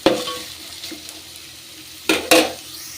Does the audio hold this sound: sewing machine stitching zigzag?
no